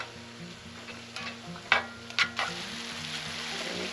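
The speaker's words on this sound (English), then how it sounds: "Let's go ahead and dump in the onions." Chopped onions frying and being stirred in a skillet at a campsite, a steady sizzle with a few sharp scrapes of the spoon against the pan, close and fairly quiet with a low hum underneath.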